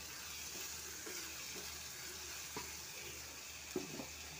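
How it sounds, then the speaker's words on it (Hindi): Onion, tomato, salt and turmeric frying in a pan for dal kadhai, a soft continuous sizzle with occasional light stirring taps and scrapes, fairly quiet and steady throughout. "टमाटर गल जाएगा, प्याज गल जाएगा, तब तक हम इसको भुनेंगे"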